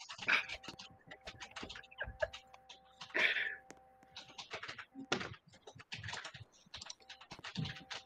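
Rapid, uneven computer keyboard typing clatters throughout, close and fairly loud, with brief pauses and a steady hum underneath.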